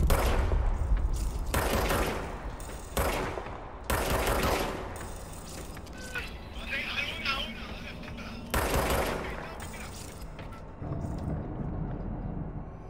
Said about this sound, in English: Fire service weapon.